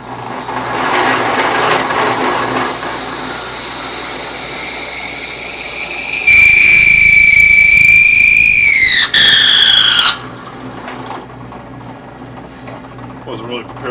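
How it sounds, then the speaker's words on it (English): A loud, high-pitched whining power drill bit screams for about four seconds boring a hole, briefly catching, after background talk and machinery noise. "Wasn't really prepared for the screaming there on the drill bit"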